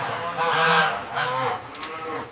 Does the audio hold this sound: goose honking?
yes